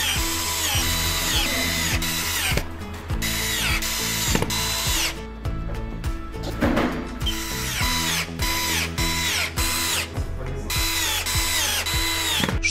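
A power screwdriver drives screws into the corner brackets of a double bed frame in repeated whirring bursts with brief pauses between them, close and loud, with no talking.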